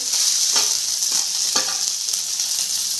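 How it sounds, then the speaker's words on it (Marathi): Onion sautéing in oil for a spicy Maharashtrian brinjal curry, a bright steady hiss close to the pan with a few spatula scrapes, and nobody speaking. "कांदा आणखी छान जरा तेलामध्ये परतून घेणार आहे"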